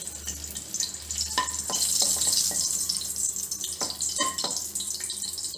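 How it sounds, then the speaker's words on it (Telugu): Dried red chillies fry in hot oil in a kadai for a curry, a steady crackling sizzle broken by sharp clicks of stirring, with no talk. "ఆయిల్ హీట్ ఎక్కింది. ముందుగా ఎండుమిర్చి,"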